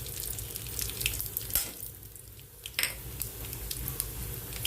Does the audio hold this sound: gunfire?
no